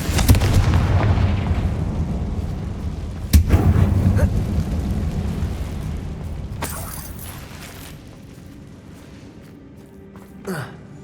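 A Confringo blasting curse in Hogwarts Legacy explodes inside a dark abandoned mine, opening with a heavy booming roar, then a second sharp blast, rumbling debris that fades, and a few later faint clinks and a small thud.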